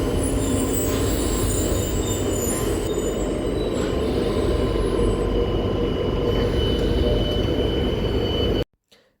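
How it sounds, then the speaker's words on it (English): An old Tyne and Wear Metro train pulls out of Sunderland Station heading south, with a loud continuous rumble and wheel squeal that holds steady, then cuts off abruptly near the end. "let's take a look at one of the old Tyne and Wear Metro trains departing Sunderland Station"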